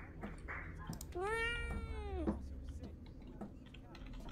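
In the horror video game Fears to Fathom: Woodbury Getaway, a cat gives one clear, drawn-out meow that swoops up and then falls away, heard over faint background noise and scattered clicks.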